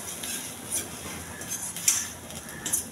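Chickpeas are stirred in a pan as their water cooks off, with a soft steady sizzle under intermittent scraping and clinks of a spoon against the metal.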